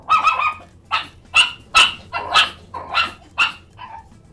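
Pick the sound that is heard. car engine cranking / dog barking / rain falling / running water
dog barking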